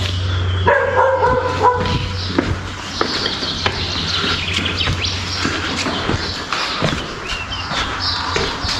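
At a rural house in Georgia's countryside a dog barks in short repeated bursts amid chirping birds, close and fairly loud over a low steady engine hum.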